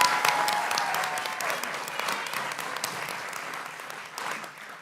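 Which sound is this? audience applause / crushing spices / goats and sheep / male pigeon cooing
audience applause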